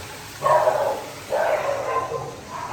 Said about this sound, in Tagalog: May mga aso ang dami.